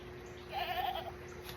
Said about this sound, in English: That's the goat.